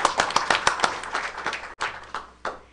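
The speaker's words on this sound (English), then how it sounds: "Audience, please give these art winners another round of applause." Indoor audience at a school board of education meeting clapping for art winners: a thin, scattered round of hand claps, brisk at first and then thinning out and fading within a few seconds.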